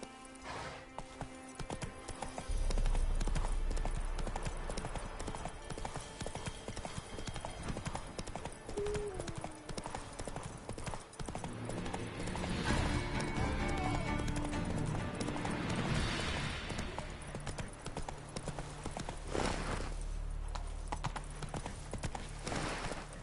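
Horse hooves gallop in The Witcher 3 on PS5: a steady, fast clip-clop runs throughout at a strong, even level, with game ambience and a faint voice in the background.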